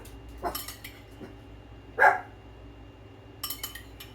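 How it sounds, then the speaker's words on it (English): A dog barks in the background of a home kitchen, a few faint, brief barks spread apart amid light clinks and low room noise. "And that's my dog in the background."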